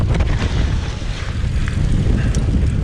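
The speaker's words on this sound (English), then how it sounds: "The wind is literally trying to turn me." Strong wind buffets the microphone while mountain biking on a trail in gusty conditions, a loud, rough roar that surges and dips continuously for a few seconds.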